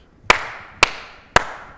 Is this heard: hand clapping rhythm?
yes